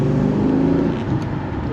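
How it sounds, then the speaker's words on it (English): A car fitted with a 3-inch exhaust revs hard, its engine droning loud and close with a steady rising note before easing off slightly toward the end. "make sure you put the revs into it."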